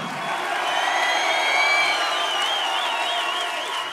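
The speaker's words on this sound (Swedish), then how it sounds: "Större applåd för alla här på Dalarna ikväll." A large concert crowd at a metal show at the Dalhalla open-air venue in Dalarna cheers and applauds in a steady, loud roar, with whoops and whistles rising above it throughout.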